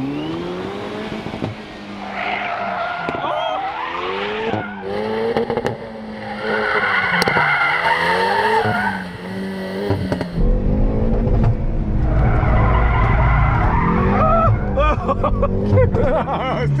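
Front-wheel-drive car whips through a J-turn, engine revving and tires squealing and skidding in long rising sweeps, with excited voices and laughter mixed in over the noise.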